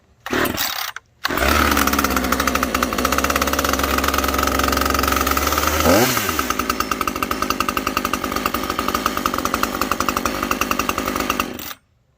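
A Husqvarna T540XP chainsaw engine catches after a short pull and runs steadily and loudly for about ten seconds, its pitch dropping briefly midway before it settles into a rough, even idle and cuts off abruptly.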